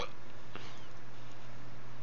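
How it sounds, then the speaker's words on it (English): A single short belch from a man bursts out once near the start, then fades into a low steady background hum with no talking. "That was a belch of agreement."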